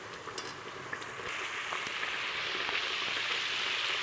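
Homemade ghee, clarified from butter, boils in a pan with a dense, close crackling sizzle of fine pops that grows slightly louder and steadier, with no talking over it.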